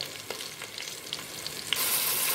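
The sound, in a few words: green chilli frying in oil with garam masala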